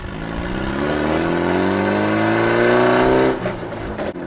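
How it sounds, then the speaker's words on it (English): A small 1600cc engine in a Meyers Manx beach buggy revs up hard, its pitch climbing steadily and loudly before it cuts back abruptly near the end. "Little 1600cc engine's not bad. Makes a good sound."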